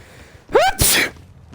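A single sneeze from a man playing a Dead by Daylight match, a sharp rising intake followed by a loud explosive burst, close and alone with no talk.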